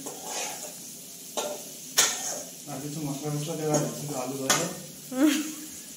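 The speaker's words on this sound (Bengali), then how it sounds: "সয়াবিন আর আলু দিয়ে হয়ে গেল, কষা কষা হয়ে যাবে" Soybean chunks and potatoes being stir-fried kosha style in a wok, a soft sizzle with scraping stirs and sharp clanks of a spatula on metal, under talk from two people.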